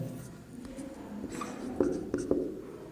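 A pen scratches across paper while someone writes out a maths solution by hand, with soft continuous strokes and a few sharper taps, faint and close in a quiet room.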